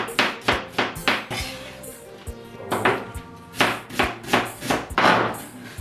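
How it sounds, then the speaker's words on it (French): A knife cuts a bell pepper into strips on a board for vegan japchae, giving quick, crisp, rhythmic chops in short bursts with brief pauses, close and clear. "Tous les légumes, vous les coupez en lamelles"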